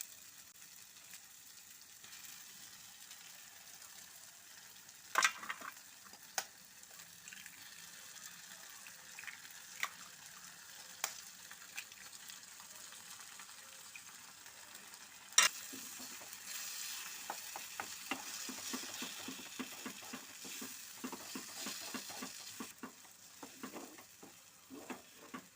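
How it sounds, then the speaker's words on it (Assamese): Eggs cracked into a pan of cooked tomatoes fry with a soft, steady sizzle, quiet and close, growing busier in the later half, with a couple of sharp knocks early on and no talking. "কণীখিনি ভাঙি দিয়াৰ পিছত আৰু বেছি সময় ভাজি থাকিব নালাগে"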